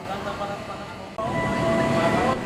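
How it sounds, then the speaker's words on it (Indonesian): An R170 electric train set pulls into track 7 at a railway station, a steady rumbling roll with high whining motor tones that grows louder partway through, and a voice talks over it. "Di jalur 7 masuk dinas rangkaian R170 strip 1."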